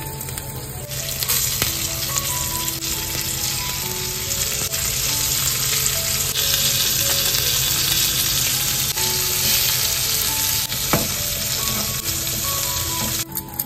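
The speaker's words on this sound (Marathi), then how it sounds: "हा बांगडा आता फ्राय करायला घालून घेतला।" Bangda (mackerel) fries in hot oil in a pan, giving a steady, loud, close sizzle and crackle that continues throughout with no talking.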